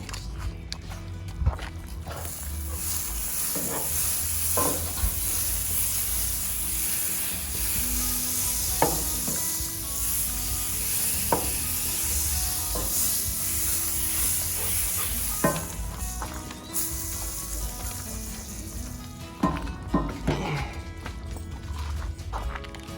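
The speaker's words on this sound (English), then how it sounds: "we're gonna put some butter here and gonna put our pound cake on" Pound cake fries in butter on a Blackstone griddle with the other burners off, a steady close sizzle over a low hum, broken by scattered clicks and spatula knocks.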